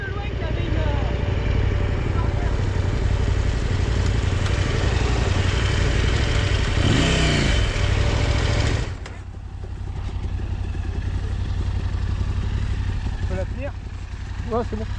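Motorcycle engine idling steadily after a crash in a rut on a trail ride, a close, continuous low drone that drops in level midway, with people talking nearby.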